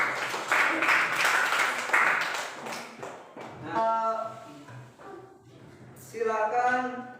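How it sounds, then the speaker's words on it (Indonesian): Students and teacher in a classroom break into applause, a loud burst of clapping in the first few seconds that fades out, followed by people talking. "tepuk tangan untuk kita semua"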